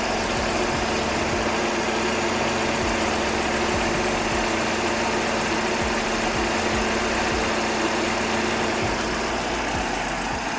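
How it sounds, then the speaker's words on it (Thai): A 2014 Toyota Yaris 1.2G with its original shock absorbers idles steadily nearby, giving a constant low engine hum with a faint mechanical whir and no speech. "ดี๋ยวผมให้ฟังเสียงกันสักครู่นึงครับ"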